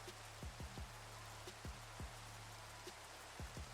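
Rain falls in the Minecraft video game as a steady hiss, with low popping drips repeating every half second or so, fairly quiet and with no one talking.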